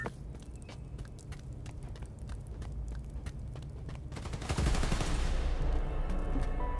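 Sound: gunfire at a power station in the video game Spider-Man: Miles Morales

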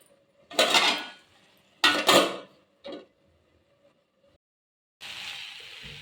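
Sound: putting a lid on a cooking pot

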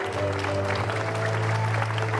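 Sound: studio audience applause

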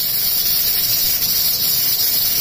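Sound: pressure cooker releasing steam

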